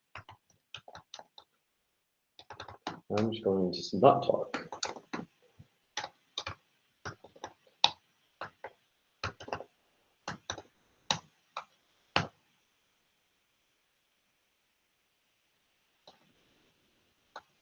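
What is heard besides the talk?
typing on a computer keyboard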